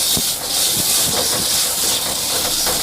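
Onion and tomato paste sizzle in a hot pan for tomato rice, a loud, steady hiss throughout with a few faint clicks and pops.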